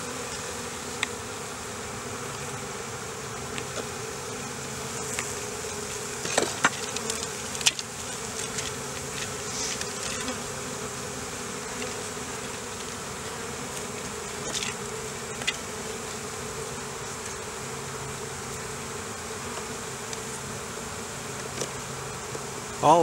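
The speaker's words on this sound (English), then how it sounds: "All of this is an attempt to get bees on small cell by letting them build what they want." Honey bees from a newly installed package buzz steadily around their comb inside a hive, a soft continuous drone with occasional louder passes of individual bees, no talking.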